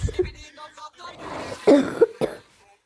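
In the game Toilet Fight, a voice talks briefly, then several harsh, close coughs burst out in quick succession before trailing off.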